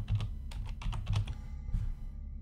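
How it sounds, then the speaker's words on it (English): Quick bursts of keystrokes on a computer keyboard, close and fairly quiet, with a rapid uneven run of clicks followed by a short pause and a final few presses. "So in the top, we'll type glorious plate."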